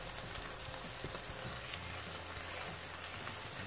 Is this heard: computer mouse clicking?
no